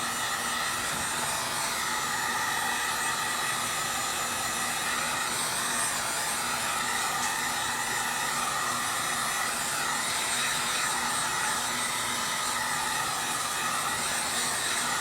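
A hair dryer blowing to dry a fresh coat of dye over filler on a leather rip repair, a steady loud whooshing hum with no break throughout.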